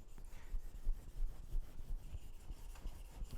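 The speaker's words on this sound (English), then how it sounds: "while I still have this stone, I'm going to polish very quickly the secondary edge" A knife's secondary edge is drawn across a sharpening stone in quick rhythmic strokes, each a soft gritty rasp repeating about twice a second, close and fairly quiet with no talking.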